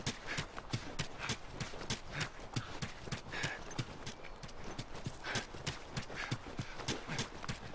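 Horse hooves clip-clop in the video game The Last of Us, a quick steady rhythm of sharp hoofbeats at moderate distance, fairly faint overall with occasional louder strikes.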